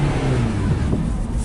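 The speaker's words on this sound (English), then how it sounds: "You see the engine trying to move, but you're not getting anything from the transmission side. And it's making a whining noise" 2012 Nissan Versa with a transmission fault, engine revving under load with a steady whine, loud and close.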